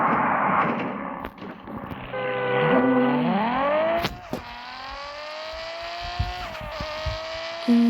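A car in the Car Parking driving game revs hard and climbs through its gears. Rising engine whines are broken by sharp thuds and clunks, and a steady engine tone carries on to the end.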